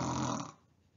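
A single drawn-out snore imitated by a human voice for a dog in a children's story, loud and rasping for about half a second, then fading to quiet.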